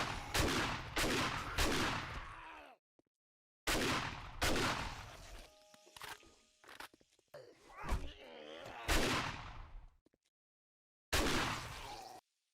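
Handgun shots in 7 Days To Die, several loud sharp bursts in separate clusters with brief silent gaps between them, plus some clattering and thudding in the middle stretch.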